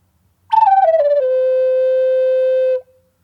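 A Native American flute plays one note with a buzzing flutter tongue that slides down to its bottom note. The note is loud and sustained for about two seconds, then stops cleanly, with no voice.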